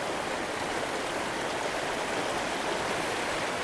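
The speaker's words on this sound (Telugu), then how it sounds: "వాటర్ ఫ్లో అవుతూ ఉంది." River water flowing over rocks near Srirangapatnam makes a constant, dense rushing wash, steady and close with no breaks.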